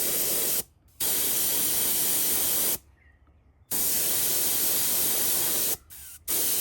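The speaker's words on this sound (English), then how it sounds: "I'm spraying this on a little higher pressure," An airbrush sprays clear coat at about 30 psi in steady hissing bursts, three short pauses breaking the continuous close-up spray.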